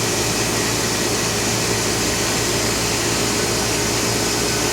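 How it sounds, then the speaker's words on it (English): A turbo pump runs on an Oxford Plasmalab 133 ICP 380 etch system, giving off a steady, continuous broadband hum and whir with no change in level or pitch and no voices. "Shows turbo running."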